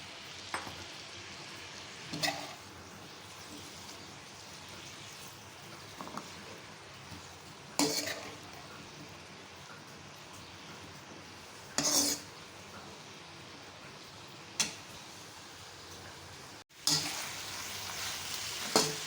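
Okra and onions fry together in a pan at medium heat, a soft, continuous sizzle heard at low volume. Occasional sharp scrapes and clinks come from a spoon stirring against the pan.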